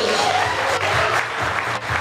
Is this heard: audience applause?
yes